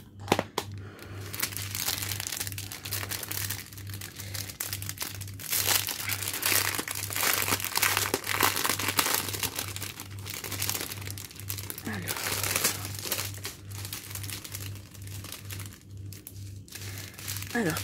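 Sealed plastic packaging of a diamond painting kit crinkles and crumples continuously as it is opened, a close, steady rustle with a faint low hum underneath.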